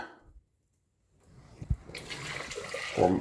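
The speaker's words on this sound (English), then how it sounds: "Pour my egg yolk mixture back into the pot." An egg yolk mixture for Bavarian cream is poured back into a cooking pot, giving a gushing liquid pour that builds after a quiet pause and swells near the end.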